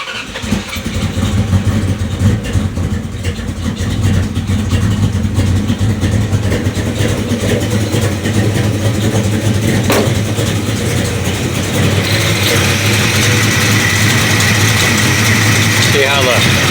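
A movie-version General Lee car with a Mopar purple camshaft and fresh exhaust work idles with a steady, loud, rough rumble for the whole stretch, its low-end throb shaking continuously and close by.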